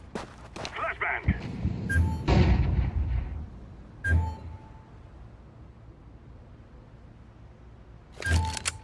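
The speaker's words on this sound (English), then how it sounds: "Flashbang." A flashbang grenade goes off in Counter-Strike 2 during a ranked match, a burst of noise followed by sharp, distinct bangs that come back at intervals across the clip, with a voice talking early on.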